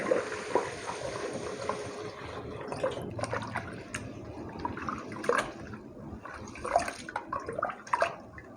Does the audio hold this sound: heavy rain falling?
no